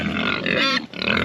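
Several farm pigs with dirt-covered faces grunt and snuffle close by in a continuous, busy cluster of short grunts, with no talking.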